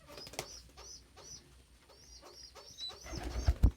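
Pigeons or doves at a backyard feeder give a run of soft, repeated coos at an even pace, with a brief burst of nearby rustling and wing flapping near the end.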